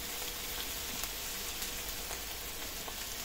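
Butter or oil sizzling in a pan for chicken liver pâté, a steady, dense hiss with faint crackles, close up and alone.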